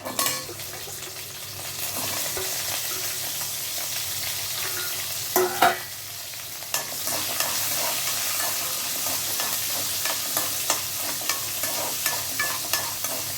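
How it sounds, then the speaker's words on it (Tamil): Shallots go into a pan of cumin and fenugreek frying in oil, giving a steady loud sizzle with stirring scrapes and clinks throughout, no voices. "அந்த 15 சாம்பார் வெங்காயத்தையும் நம்ம அதில் சேர்த்துக்கலாம்"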